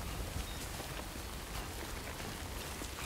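Steady, faint rain hisses continuously with light patter throughout in the video game Death Stranding, no voices.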